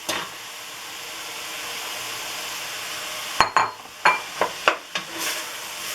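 Carrot is added to onion and two bell peppers sautéing in a pan: a steady soft sizzle, then a quick run of sharp stirring knocks and scrapes against the pan.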